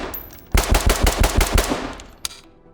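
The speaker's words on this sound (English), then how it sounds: "It's like a 2-round burst, right?" Modded rifle in the tactical shooter Ready or Not fires a rapid string of close, loud shots in quick pairs, followed by one lone shot after a short gap.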